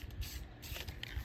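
A short hiss of spray paint released from a can in a brief, light burst while painting a sunset sky, close and fairly quiet with no one speaking.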